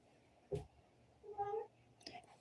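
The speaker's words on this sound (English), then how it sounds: "my cat's gonna go meow, meow." A domestic cat meows indoors, giving a short sharp cry followed by a longer drawn-out meow and a brief third call, close and moderately loud over a quiet background.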